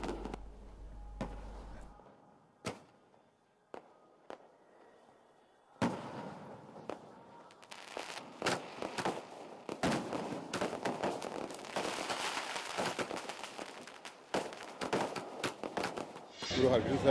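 Fireworks crackle and pop in scattered bursts at an evening Parkash Purab celebration in Amritsar, sparse at first then building into a dense stream of bangs and crackles, with speech mixed in.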